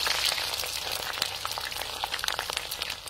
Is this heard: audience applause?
no